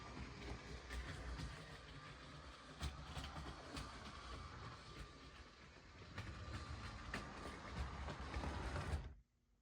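A LEGO train runs along a layout with a steady mechanical clatter and rolling hum, faint rhythmic clicks over the track and a slight swell in loudness before it cuts off abruptly near the end.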